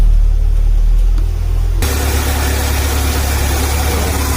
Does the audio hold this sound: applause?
no